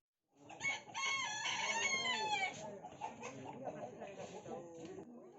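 Fighting roosters seized by police after a cockfight raid in Sidoarjo, East Java, crow loudly and repeatedly, with clucking and voices mixed in the background.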